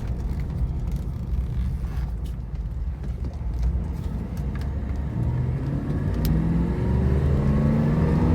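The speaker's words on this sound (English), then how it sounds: "A lot of power. I mentioned it on one of the videos before. The 5-liter Chevy is no slouch. It's pretty torquey." A 1991 Cadillac Brougham with a 5-liter Chevy engine accelerating on the road, a steady low engine rumble with rising tone building in the last few seconds, heard alone without talk.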